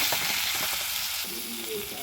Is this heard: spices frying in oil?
yes